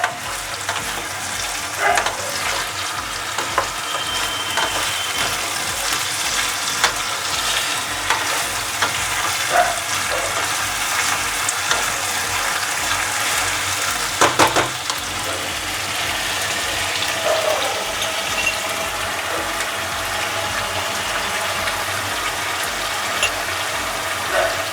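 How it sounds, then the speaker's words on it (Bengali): Chicken curry sizzles and fries in a pan while it is stirred, giving steady crackling with scattered scraping clicks from the spoon, close and continuous without speech. "এবার ভালো করে নাড়িয়ে নেব।"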